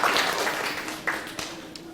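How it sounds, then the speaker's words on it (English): Applause for a school PTA at a mayor's school event, a short burst of scattered clapping from a crowd that gradually thins out. "Let's give a nice round of applause to the PTA"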